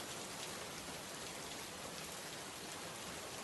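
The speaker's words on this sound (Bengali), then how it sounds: "সারা দিন একরকম বৃষ্টি হয়ে আসছে" Heavy rain pours steadily over flooded village fields, a dense continuous hiss with no breaks, loud and close, with no voices.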